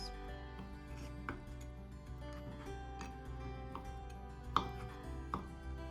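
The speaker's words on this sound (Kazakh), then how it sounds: "Осы етті өте ұсақ қылып турап шығамыз." A knife chopping cooked meat finely for a pineapple salad, light irregular taps on a board, some sharper, heard alone over a soft background hum.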